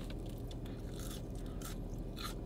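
Jack in the Box fries are bitten and chewed up close, giving soft, quick crunches over quiet background noise.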